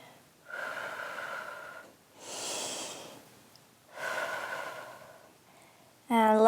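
Slow, deep breaths during a Pilates plank on a mat, three long audible exhalations rising and falling in a steady rhythm, close and clear, with a voice breaking in at the very end.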